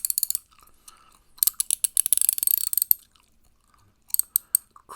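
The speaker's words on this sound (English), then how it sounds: "ratchet wrench. You can press the button here so you can detach it." A chrome vanadium ratchet wrench clicks up close in quick bursts of sharp, rapid ratcheting, with short pauses between runs and a few softer mechanical ticks, in a quiet indoor setting.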